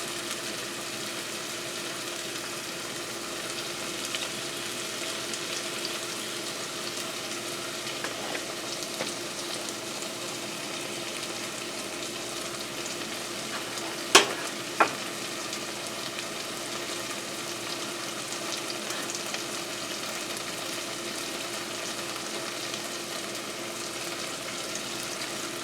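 Garlic and ginger frying in a pan for kung pao chicken, a soft even sizzle held steady throughout, with one sharp click and a small knock midway.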